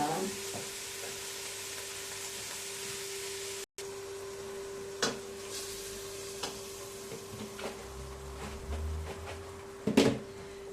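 Chickpeas and spinach being stirred in a cooking pot, a quiet, low background hum broken by a few scattered scrapes and knocks from the spoon against the pot, with a louder clatter near the end.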